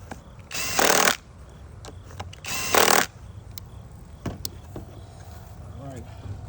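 A Skil brushless impact driver, fitted with a 13 mm socket and working a chain tensioner nut, fires in two short loud bursts about two seconds apart, followed by quieter clicks and handling noises.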